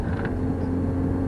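A car's engine holding steady in second gear at about 30 mph on a 30 road, a close, continuous drone with a constant low hum, revving higher than in third.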